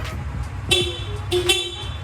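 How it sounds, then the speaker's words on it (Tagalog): A car's stock horn beeps twice in short toots over a low idling engine hum, close and clear, with no talking. "Okay sir, pabusina naman, stock horn."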